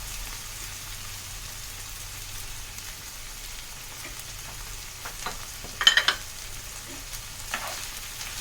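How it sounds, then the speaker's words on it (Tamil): Half-boiled rice fries in oil with vegetables, giving a soft steady sizzle, with a brief louder burst of crackle and scraping about two-thirds of the way through. "இந்த ரைஸ் வந்து ஃப்ரை ஆகணும்."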